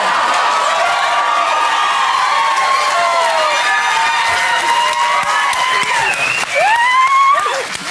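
A studio audience on a TV dating show applauds steadily throughout, a dense wash of clapping mixed with cheering and whoops that swells briefly near the end.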